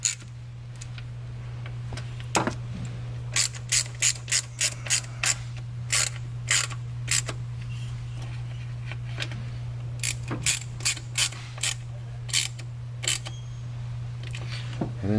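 A ratchet snugs the valve cover bolts on a 1997 Land Rover Defender 90, making close, crisp clicking bursts in repeated short runs over a steady low hum.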